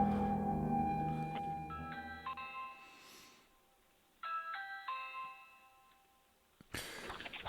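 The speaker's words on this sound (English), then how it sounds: "a Ring camera captured a woman walking up to the front door of a house and ringing the doorbell repeatedly" A Ring video doorbell chime at a house's front door rings out in two separate bursts of bright, stepped ding-dong tones with a quiet gap between them, ending in a short harsh burst of noise.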